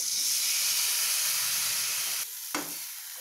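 Mango pieces for pickle being stirred with spice powders in hot oil, a bright hissing sizzle that drops off abruptly near the end, followed by a single sharp utensil knock.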